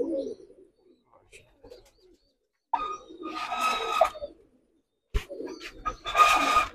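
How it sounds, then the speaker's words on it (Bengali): Sharmila pigeons coo in two close bursts, soft throaty calls swelling and fading with quiet gaps between, and faint low murmuring before the first burst. "শর্মিলা কবুতর।"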